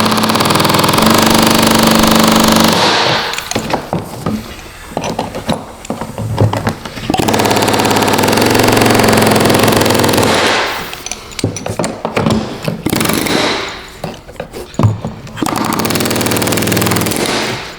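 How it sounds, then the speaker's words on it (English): An air hammer works at a Chevy truck fuel tank, loud rapid rattling bursts lasting several seconds each, separated by brief pauses and clanks, close by. "Be careful your air hammer doesn't chisel down into the tank"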